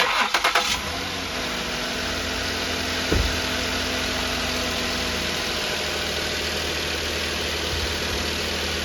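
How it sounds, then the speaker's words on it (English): A 2008 Ford Taurus engine cranks briefly and fires, then settles into a steady, loud idle that holds throughout with a brief surge partway in. "then we'll start the car"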